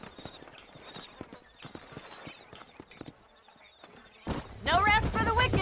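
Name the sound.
horse hooves clip-clop, from a video game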